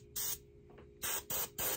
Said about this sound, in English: Give it a little test spray here, make sure it works.